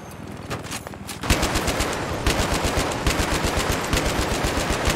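Rapid machine gun fire from the Battlefield 3 video game rattles in dense, loud bursts, with sharp repeating shots that thicken into a sustained volley close up, no talking over it.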